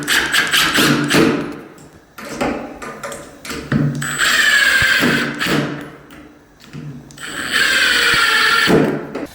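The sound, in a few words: power drill driving screws into door hinge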